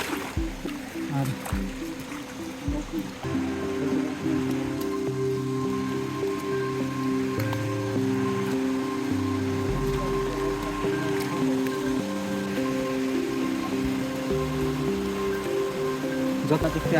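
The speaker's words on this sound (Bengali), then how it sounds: "এই যে দেখেন ঝর্ণার পানিগুলো এখান দিয়ে প্রবাহিত হচ্ছে।" Stream water from Khaiyachhara waterfall in Mirsarai, Chittagong, rushing steadily over rocks along a forest trail, a continuous close wash of flowing water with a low droning hum beneath.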